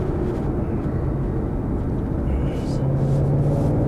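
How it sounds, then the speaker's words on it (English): A 2011 Ford GT500 runs with a steady, loud engine drone and supercharger whine from inside the car, holding a constant level throughout. "I love that supercharger whine."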